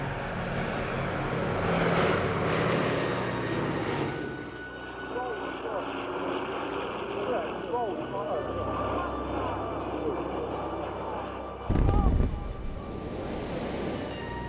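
A World War II American A-26 Invader medium bomber flies at an airshow, its engine drone rising and falling at a moderate distance, with a sharper burst of noise near the end.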